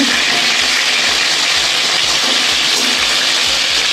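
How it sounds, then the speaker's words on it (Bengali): Pointed gourd (potol) pieces coated in salt and turmeric fry in oil in a kadai, giving a loud, steady, dense sizzle that continues unbroken and close up. "মাছের ঝোল করব আলু পটল দিয়ে পটলগুলো আগে একটু ভেজে নেব"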